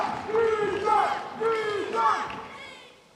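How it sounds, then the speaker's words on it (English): Crowd at a Major League Table Tennis match yelling and cheering in two strong surges, a dense chorus of raised voices swelling and fading in the arena. "Crowd clearly behind Jishan."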